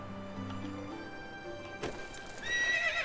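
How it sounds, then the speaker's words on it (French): A horse in the medieval village game Medieval Dynasty gives a clear whinny, then a short thump and a few clip-clopping hoof steps, fairly close and with no voices. "Il est où le cheval?"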